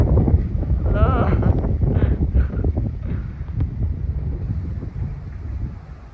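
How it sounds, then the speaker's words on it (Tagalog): Strong wind buffets the microphone with a low, gusty roar during kite flying, while people talk and call out over it in Filipino. "grabe yung hangin pa rin, oh. Sobrang lakas."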